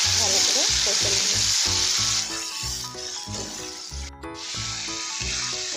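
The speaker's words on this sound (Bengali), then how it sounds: "মশলাটা দিয়ে এবার এটা ভালো করে কষে নেব।" Ground paste of mustard, onion, tomato and green chilli being stir-fried in a pan, giving a loud, close sizzle broken by rhythmic scraping strokes of a spoon at a steady pace.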